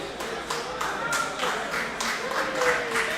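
An audience claps at the 2023 Yu-Gi-Oh! Houston Regional tournament, a dense, steady patter of many hands beneath someone talking over it.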